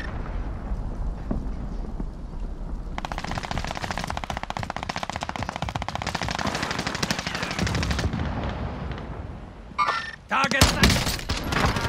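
Sustained automatic gunfire rattles through a video game shootout, long rapid bursts with heavier blasts and sharp shots near the end, loud and continuous under background noise.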